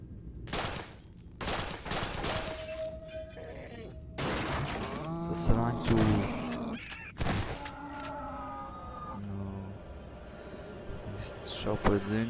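Repeated gunshots crack through a busy Nightmare House 2 game soundscape, some in quick doubled bursts, with excited voices talking over the action.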